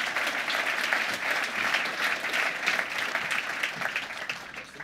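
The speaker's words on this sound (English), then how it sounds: "So ladies and gentlemen, let's give a big round of applause to Jim as he comes on the stage." Conference audience claps as a guest walks onto the stage, an even, moderately distant round of applause that holds steady for about five seconds and begins to thin near the end.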